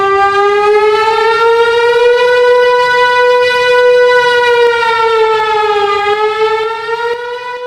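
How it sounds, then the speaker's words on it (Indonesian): Loud, steady wailing fire alarm siren in a safety drill setting, one continuous rising-and-falling tone with rich harmonics sounding alone for the whole stretch, easing slightly near the end. "nyalakan fire alarm dan hubungi petugas pemadam kebakaran terdekat"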